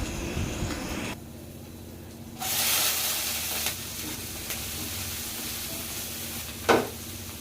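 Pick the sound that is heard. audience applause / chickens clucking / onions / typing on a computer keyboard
onions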